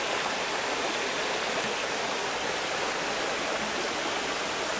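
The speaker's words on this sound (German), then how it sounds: "Und durch den ganzen Regen jetzt die letzten 2-3 Tage fließt hier voll der Bach." A brook running full after two or three days of rain rushes in a steady, close, broadband wash with no pauses and no talking.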